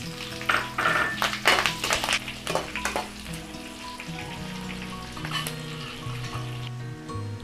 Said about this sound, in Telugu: ఒక ఆనియన్ ని చిన్న చిన్నగా కట్ చేసుకొని అలాగే నాలుగు పచ్చిమిర్చిని మధ్యలోకి కట్ చేసుకొని వాటిని వేసుకుందాం